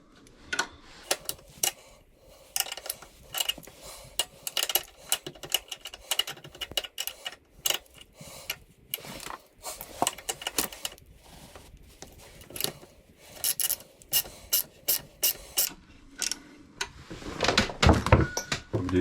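A ratchet slackens off a tensioner in a series of faint, quick clicking runs, with irregular pauses and small handling knocks between the bursts.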